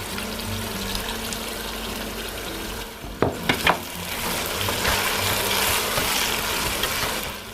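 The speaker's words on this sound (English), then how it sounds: "Now I'm going to be adding some of the liquid I got from blending the peppers" Blended pepper liquid poured into a pot of sizzling Nigerian ayamase stew, giving a steady loud frying hiss with a few sharp splashes and crackles midway before the sizzle swells again.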